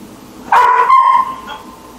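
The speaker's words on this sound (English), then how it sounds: "Dog doesn't like me talking to myself, wants to be in the picture." A dog barks and yips close by, one sharp bark followed by a drawn-out whiny yelp that fades, loud and alone in a quiet room.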